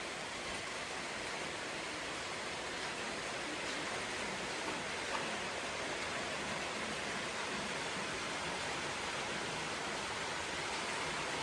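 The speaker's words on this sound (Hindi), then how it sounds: "बारिश शुरू हो गई है और बारिश से भी मौसम बहुत शानदार हो गया है।" Steady rain falls across Ziro Valley in Arunachal Pradesh, a dense even hiss that runs unbroken and fairly loud from start to finish with no voices over it.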